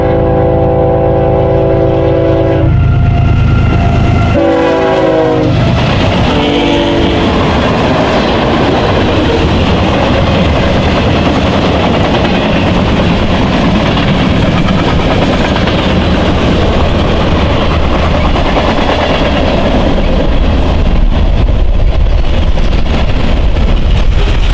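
A long, 112-axle eastbound freight train carrying produce rumbles past close by at 55 mph, steady loud roar with wheel clatter, following a brief horn blast at the start.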